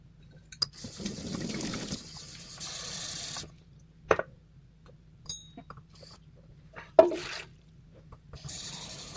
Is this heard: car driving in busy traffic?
no